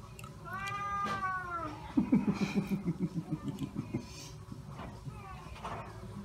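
A cat meows several times in a quiet room, one long rising-falling meow then a rapid pulsing yowl, close by, with a person speaking softly around it.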